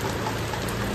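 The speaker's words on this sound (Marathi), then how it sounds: "पाऊस पडतोय." Rain falls in a steady, dense hiss of drops striking a surface, filling a brief moment with no voices.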